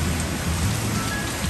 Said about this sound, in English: we are in a downpour all of a sudden, and the thunder out here has been crazy